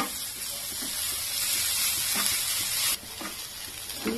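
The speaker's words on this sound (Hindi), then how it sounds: "मिक्स कर लेंगे सब अच्छी तरह।" Poha being stirred in a frying pan with peanuts and lemon juice, a steady close sizzle with soft scraping strokes throughout, no talking.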